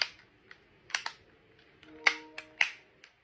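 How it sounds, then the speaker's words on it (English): A PS5 controller's plastic back cover being pressed into place after a stick-drift repair: several crisp, close snapping clicks in irregular succession, a pair of louder ones near the end, with quiet handling between. "Go ahead and just finish clicking this in."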